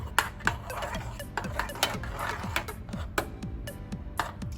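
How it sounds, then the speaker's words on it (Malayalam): Spoon stirring a thick fruit salad mixture in a pot, producing repeated light scraping and clinking strokes in a steady rhythm, close and fairly quiet, with no talking. "നമ്മളിത് ഇളക്കിക്കൊണ്ടേയിരിക്കണം."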